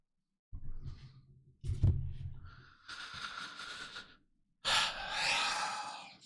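Heavy breathing comes close to a headset microphone during a live hockey game commentary: sharp gasping inhales and long exhales in uneven bursts, with short pauses between them.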